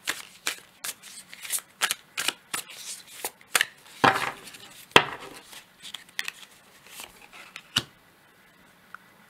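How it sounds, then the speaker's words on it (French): Tarot de Marseille cards are shuffled and drawn in a run of crisp, rapid riffles and flicks, close and distinct, then end with a few isolated taps before near silence. "j'ai pris le tarot de Marseille et je prends une dernière carte pour clôturer ce petit tirage pour vous"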